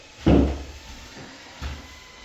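A cabinet door in a room under renovation knocks shut once sharply up close, then a second, softer bump follows about a second later.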